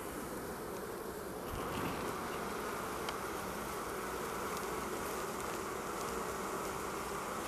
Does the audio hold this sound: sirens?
no